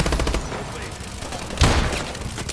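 Rapid automatic gunfire from the video game Call of Duty: Advanced Warfare, dense bursts of shots with a heavier boom near the end, loud and close, with someone speaking faintly underneath.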